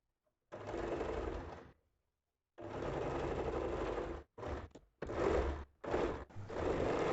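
A sewing machine stitches the hem of a nightie in bursts. A long run comes first, then a second long run, then several short stop-start runs separated by silent pauses.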